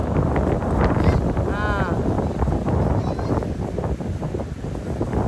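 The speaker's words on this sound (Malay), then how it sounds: "Angin kuat kau. Angin kuat. Angin kuat oi." Strong wind on a beach at Pantai Puteri, Melaka, roars into the microphone as a loud continuous rumble, with people's voices and brief shouts mixed in underneath.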